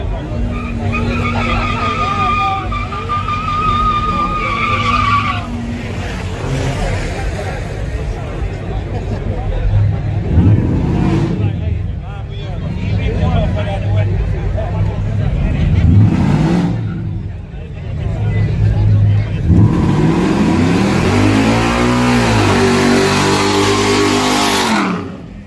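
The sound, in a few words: V6 race car revving and skidding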